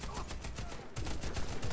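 Gunfire from a Bushmaster BA50 Gold rifle in the online shooter Warface crackles in a dense run of sharp, rapid bursts, loud and close, with a brief gap midway before the shots resume.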